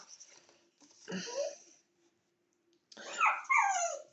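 A dog greets its returning owner with short bursts of excited whines, snuffles and small growly vocal noises, separated by quiet gaps, fairly close by.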